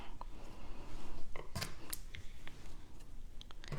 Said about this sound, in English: snip this off right here.